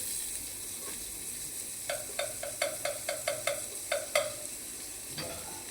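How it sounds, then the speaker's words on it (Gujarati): Garlic bread frying in butter in a pan over a low flame, a faint steady sizzle with a quick run of light taps or scrapes in the middle, no talk. "થોડું માખણ નાખી બીજી સાઈડ કરી લઈએ."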